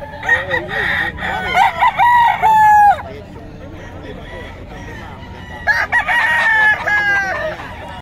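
A rooster crows loudly twice, the calls separated by a few seconds, with clucking chickens and faint murmuring voices in the background.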